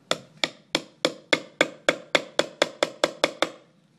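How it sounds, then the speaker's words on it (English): A hammer strikes a stake over and over, driving it through the end of a homemade water jump: about fourteen sharp, evenly spaced wooden thwacks, close and loud, with no voices. "and hammer it through."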